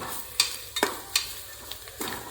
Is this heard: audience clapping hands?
no